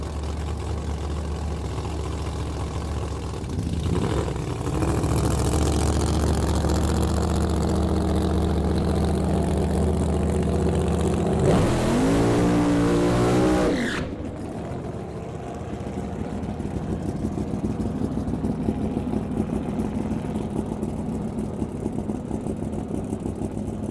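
Drag racing cars idle with a deep, steady rumble at a drag strip, rising into a loud roaring rev that swells and fades after a few seconds, then settles back to a lower idle.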